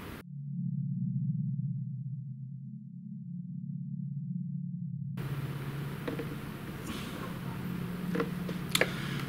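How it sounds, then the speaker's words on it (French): A steady low electronic hum plays alone, then harsh hissing radio static from a ghost box, a Bluetooth speaker with a scanning radio inside, sweeps in over it, with scattered crackles and brief bursts. "C'est une Ghost Box, c'est une enceinte Bluetooth en fait, avec une radio à l'intérieur"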